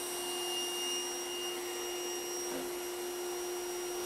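Trifo Lucy robot vacuum cleaner running on carpet, a loud, steady whirring motor drone with a constant tonal whine, heard close and alone without any voices.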